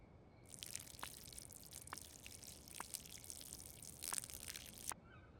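Watering a freshly soiled plant in a tent in the video game Schedule 1, a faint, soft trickling and dripping spray lasting several seconds with a few brief sharper drops, heard alone without talk.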